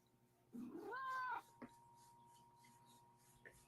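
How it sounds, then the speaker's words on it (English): A cat gives one drawn-out, rising and falling meow close by, followed by a couple of faint small clicks in an otherwise quiet room. "Yeah, my cat's here."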